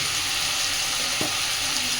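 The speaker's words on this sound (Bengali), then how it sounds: "আলুটাকে মশলার সাথে কষে নেব।" Small potatoes cooking with spices in a pan give a steady, close sizzle and crackle, broken by one short scrape or stir near the middle, with no talking.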